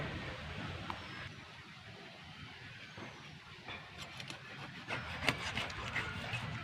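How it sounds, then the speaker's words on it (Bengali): A knife cuts a headless shimul kanta fish into small pieces, separating the backbone from the belly, with faint, irregular rasping and scraping strokes that grow slightly sharper toward the end. "এবার মাছটাকে আমি কেটে নেবো"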